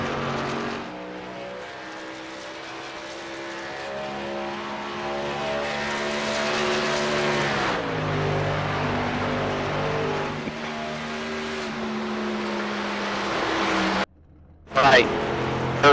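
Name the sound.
race cars driving on track in iRacing video game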